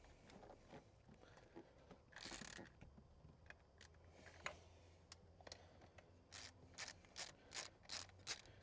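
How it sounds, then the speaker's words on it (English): A 3/8-inch drive ratchet clicks as it turns, tightening bolts on a VY V6 inlet manifold during installation; close, quiet bursts of rapid pawl clicks come in uneven runs with no talking. "Handy little ratchet, you turn the handle and it turns the ratchet. It's only a 3/8 drive, but it's really handy."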